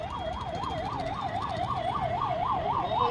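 An ambulance siren wails in a steady, repeating rise-and-fall pattern amid highway traffic in Delhi, loud and continuous over a low rumble of road noise.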